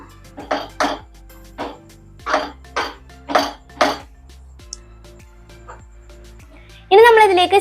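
A spoon stirs broken cashews and raisins into a laddu mixture in a pan, making about eight rhythmic scraping strokes, before a louder voice cuts in at the end.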